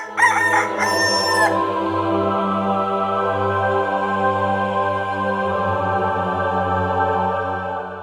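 A rooster crows loudly and close by, one long drawn-out cock-a-doodle-doo that opens with sharp clipped notes and then holds a sustained call to the end.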